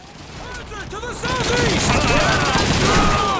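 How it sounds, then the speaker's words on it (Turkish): A captured German gun fires rapid bursts in Call of Duty 2, the loud crackling shots growing denser and louder as the clip goes on, with a voice talking at the start. "Şu Alman silahını kullanmam lazım."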